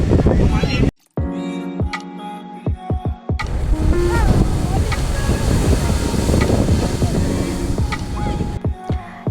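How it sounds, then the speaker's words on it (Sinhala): Rough sea waves roll and crash at Kirinda beach, Sri Lanka, as a steady broadband surge mixed with wind buffeting the microphone, with some tonal sounds and brief dropouts along the way. "ඉතින් කිරින්ද මුහුද ටිකක් සැරයි, ඒ හින්දා විලි ගන්නවා."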